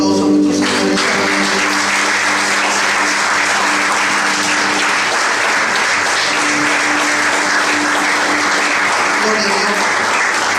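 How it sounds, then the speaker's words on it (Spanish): A church congregation bursts into loud, sustained applause with cheering voices mixed in, starting abruptly after a moment of tonal sound and holding dense and strong throughout. "¿Qué le parece si le damos un fuerte aplauso a nuestro Señor en esta mañana?"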